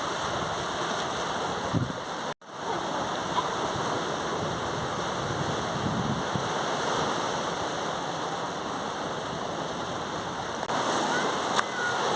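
Sea waves wash continuously onto a beach in North Goa, making a steady broadband roar that is moderately loud and close, broken once by a brief cut, with faint voices now and then.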